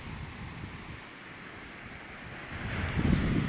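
Ocean waves wash onto Long Bay beach on Auckland's North Shore, a steady broad surf roar with wind buffeting the microphone, swelling louder toward the end as a nearer wave breaks.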